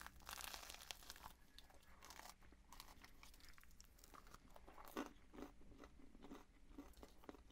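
Crisp, close crunching and biting of a dry, chip-like snack spread with Nutella, with repeated sharp crackles and chewing that run steadily with no voice.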